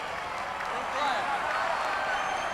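A stadium crowd at a 2003 NRL rugby league match between Melbourne Storm and Manly Warringah cheers and claps as a broad, sustained roar, swelling around the one-second mark beneath a commentator's talk.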